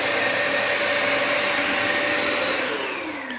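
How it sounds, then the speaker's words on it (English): A Bissell Symphony vacuum and steam mop runs loud and steady close by with a constant whine, and its motor pitch starts to drop toward the end. "Let's see if we can vacuum that up."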